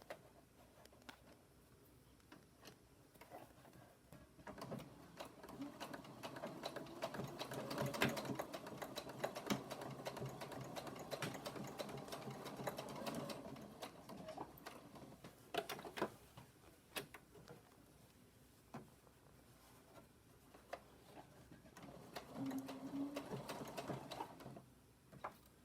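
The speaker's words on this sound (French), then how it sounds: "on va venir faire une petite couture pour fixer l'élastique" A sewing machine stitches elastic onto a homemade fabric mask, running in quiet bursts of rapid mechanical clatter with pauses between seams.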